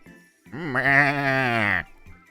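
A person imitates a goat with a wavering, nasal bleat lasting over a second, close and loud, with brief breathy sounds around it.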